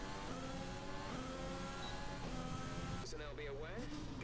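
An F1 car from the F1 2020 game at the Bahrain Grand Prix heads out on track, its engine a faint, steady droning whine with shifting pitch beneath a talking voice.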